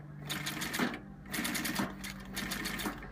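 Sewing machine running steadily at speed while winding a bobbin, a continuous mechanical whir with three rhythmic pulses of motor and needle clatter, close and alone.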